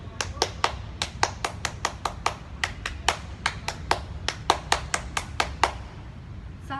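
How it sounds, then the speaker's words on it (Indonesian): Sharp hand claps beat out the rhythmic pattern of an Indonesian scout clap, tepuk pramuka, in short grouped bursts with brief pauses between them, close and crisp over a quiet room. "Tepuk pramuka."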